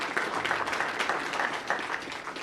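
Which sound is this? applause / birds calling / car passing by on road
applause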